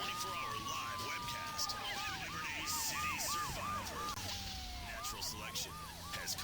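Several police car sirens in the video game GTA 3 wail and yelp together, overlapping in a continuous, fairly loud chorus over engine and road noise.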